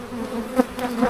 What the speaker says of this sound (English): the bees are really hitting my gloves